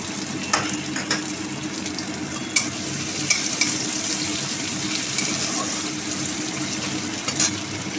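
Chopped onions fry in oil in a wok with bay leaf and five-spice tempering, giving a continuous even sizzle and a few light clicks of stirring.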